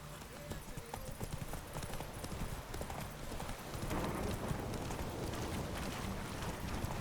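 Hooves of Geralt's horse Roach clip-clop at a steady gallop in The Witcher 3: Wild Hunt, with wind and rushing ambience beneath and character voices talking over the ride.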